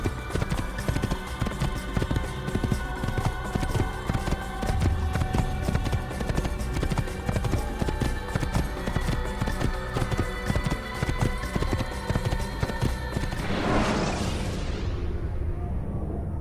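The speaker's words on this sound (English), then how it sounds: "I actually like traveling the Middle East horseback." Horse hooves galloping across the Middle East in Assassin's Creed, a 2007 video game, with a loud steady clip-clop rhythm throughout and a brief whoosh near the end.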